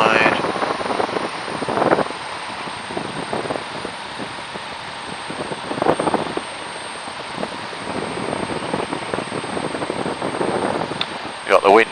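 The engine of a Tiger Moth biplane is throttled back into a glide, a steady rumbling drone with heavy wind buffeting across the microphone, heard from inside the open cockpit, with voices talking over it.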